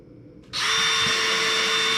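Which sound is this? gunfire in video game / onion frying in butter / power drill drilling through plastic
power drill drilling through plastic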